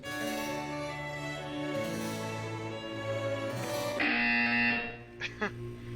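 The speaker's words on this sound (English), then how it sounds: "Oh, you gotta love that buzzer." Buzzer in the video game Portal 2, a steady loud harsh electronic drone that shifts pitch a few times before cutting off, with no talking.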